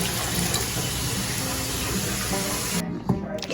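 Water pours steadily into a cooking pot to make dill pickle brine, a continuous splashing rush that stops abruptly near the end, followed by a brief clunk.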